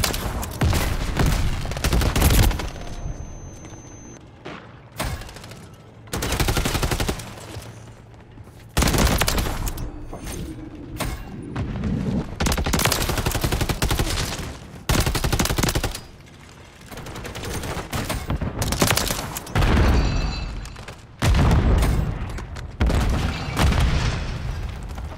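Shotgun blasts in a multiplayer shooter video game, loud booming reports repeated in clusters with short gaps, mixed with other gunfire and explosions throughout.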